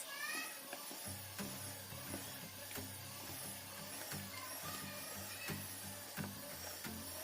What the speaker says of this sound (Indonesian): Nah, kita mixer adonannya sampai kalis.